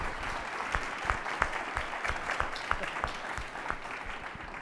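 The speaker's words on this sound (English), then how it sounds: "perhaps a round of applause for both our presenters" Clapping from a modest audience after a health information technology presentation, the claps distinct and fairly close, forming an even patter that holds steady through the moment without speech.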